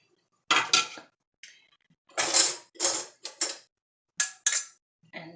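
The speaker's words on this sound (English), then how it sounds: "I'm going to drop them right back into the pot they were cooking in" Drained vegetables dropped back into the metal pot they cooked in, producing a series of sharp clanks and clinks of metal against metal, several separate close bursts with quiet gaps between them.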